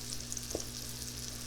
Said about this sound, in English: Now we're getting some sizzle.